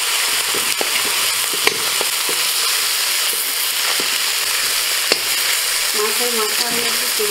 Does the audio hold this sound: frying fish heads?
yes